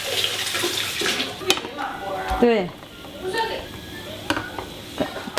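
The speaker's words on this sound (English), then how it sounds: "The sauerkraut we're going to rinse off with water" Tap water running and splashing as sauerkraut is rinsed in a kitchen, with intermittent clatters of a bowl and sink under a person talking throughout.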